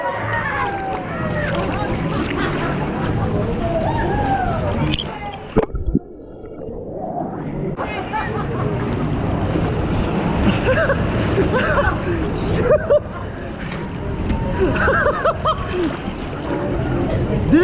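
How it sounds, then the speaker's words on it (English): A large wave surges through a water park wave pool with a loud, continuous wash and splashing, briefly cut off midway and then resuming, while people talk and shout over it. "Here comes the wave."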